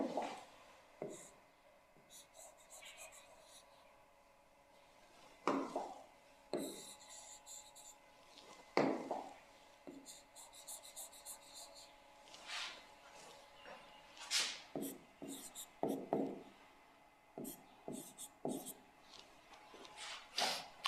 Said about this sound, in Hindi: इसको हम लोग लिख देते हैं RF, इसको भी लिख देते हैं RF